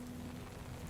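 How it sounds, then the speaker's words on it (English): Rain falls at night at Emerald Lake as a soft, steady patter, faint and continuous throughout, with no voices. "there's a scientific explanation for why rain can make us feel calm"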